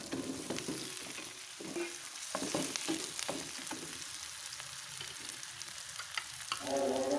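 Chicken is stirred into spice paste frying in a pan, a steady close sizzle under scraping strokes of a spoon, with bursts of louder frying as the pieces are turned.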